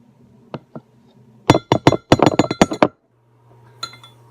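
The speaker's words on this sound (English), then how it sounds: "I got the sour cream and tomato paste in here. We're whisking." Sour cream and tomato paste whisked inside an Instant Pot for chicken paprikash, a couple of light taps followed by a fast burst of sharp metallic clinks against the pot, then a pause and a final few clinks.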